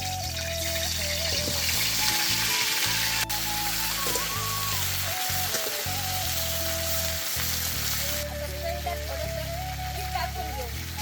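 Pieces of brinjal (eggplant) fry in hot oil with a steady, crackling sizzle at close range for a home-style vegetable dish. A voice talks over the frying.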